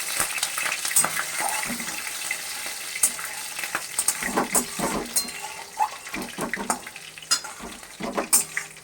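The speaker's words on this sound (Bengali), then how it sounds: "কালো জিরেটা দিয়ে দিলাম কাঁচা লঙ্কাটা দিয়ে দিলাম একটু ভেজে নেব হালকা করে" Black cumin and green chili frying lightly in a pan over lowered heat, a close crackling sizzle broken by repeated spoon-stirring scrapes and knocks, with no voices.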